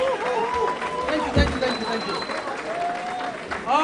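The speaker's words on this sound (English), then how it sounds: "can we give Ms. Jen another round of applause" Audience applause at an award ceremony gala night, a steady wash of clapping that fills the room while voices and chatter carry on over it.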